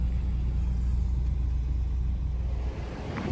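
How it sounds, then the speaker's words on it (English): A big truck idles at a river park boat launch, a steady low engine rumble close by and continuous, easing slightly near the end, no voices. "That's a truck. That's a big truck."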